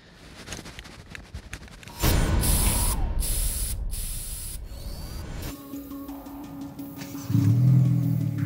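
Aerosol can of yellow spray paint hissing onto a Honda Civic Si, a steady close spray with brief pauses between bursts, followed by a low rumble near the end.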